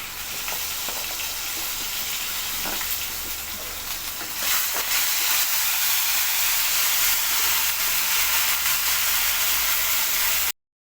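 Onion and ginger-garlic paste sauté in a pan for a traditional paruppu urundai kuzhambu, giving a steady, loud frying hiss that swells a little louder partway through and runs without any talk.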